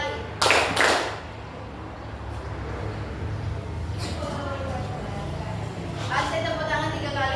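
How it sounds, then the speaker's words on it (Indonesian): Children clapping hands during a classroom game, a couple of loud close claps near the start and more scattered clapping later, over a steady background of voices and room noise. "I say tepuk tangan 2 kali."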